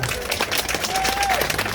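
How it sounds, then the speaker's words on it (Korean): Crowd applauding at an outdoor rally protesting forced land expropriation in front of Yesan County Office, Korea; steady mid-distance clapping fills the clip, with a faint whistle-like tone rising briefly partway through. "이장님께 뜨거운 박수 부탁드리겠습니다."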